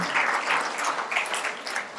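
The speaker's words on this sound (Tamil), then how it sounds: "ஒரு பலத்த கரகோஷம் மேஜிக் பாக்ஸுக்கு." Audience applause at a stage event, a steady patter of many hands clapping at moderate volume for a couple of seconds with no talk.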